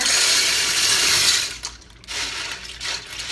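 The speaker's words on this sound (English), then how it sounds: "So we're just going to dump the noodles in the water" Dry macaroni elbow noodles pour into a pot of water with a loud, rushing, splashy hiss for about a second and a half, followed by quieter scattered clinks and settling sounds.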